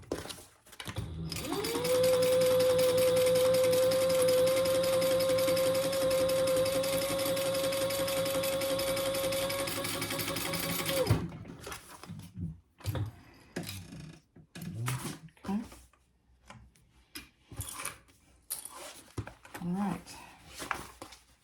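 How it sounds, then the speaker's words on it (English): A sewing machine runs steadily for about ten seconds, stitching the seam of a fabric crossbody bag, then stops. Brief clicks and handling noises follow, with some talk nearby. "then we're going to stitch that at the seam allowance in the pattern"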